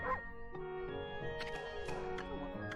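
A dog barks and yips several times in the video game Ōkami HD, short sharp calls over a steady layer of background music.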